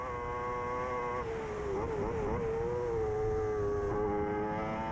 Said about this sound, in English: notice how they just keep that engine on the boil. You have to keep it up high in the revs all the time.